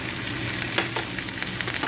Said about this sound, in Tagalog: pag nasaute na itong sibuyas o yung onion, sunod na natin tong tomato o kamatis